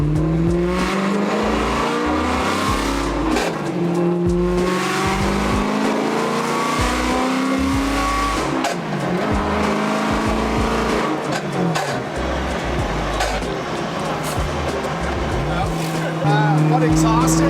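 A BMW M3 E92 fitted with a custom titanium exhaust drones and revs steadily on a track, engine pitch climbing and shifting for the whole stretch, loud and close, with occasional talk inside the car.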